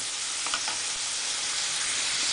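Chopped onion and garlic sizzle steadily in hot oil in a pan, a close, even frying hiss with a few brief stirring sounds, no voices.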